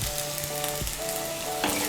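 Vegetables and cooked rice frying in oil for paneer fried rice, a steady close sizzle running through the whole clip, with light scraping and stirring noises layered over it and a brief brighter hiss near the end.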